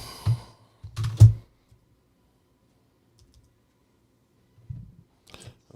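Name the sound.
computer keyboard typing and clicking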